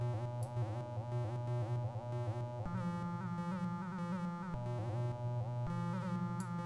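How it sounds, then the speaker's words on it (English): Arturia Buchla Easel V software synth with a square wave pulsing on and off against a static LFO, a steady buzzy harmonic drone with rhythmic gating and periodic bright sweeps, playing alone with no voices. "You can hear the square wave turning on and off in the background."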